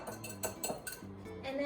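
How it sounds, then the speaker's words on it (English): A fork clinks and scrapes against a bowl as cupcake batter ingredients are mixed, with quick, quiet, repeated taps in an uneven rhythm over a few seconds. "you're going to whisk it or mix it with a fork"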